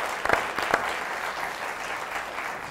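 A television studio audience applauds in honor of a guest's mother, warm steady clapping at moderate volume with a few sharp claps early on, sustained to the end.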